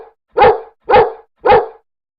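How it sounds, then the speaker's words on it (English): A dog gives three short, evenly spaced barks, loud and close, with nothing else heard around them. "What sound does a dog make?"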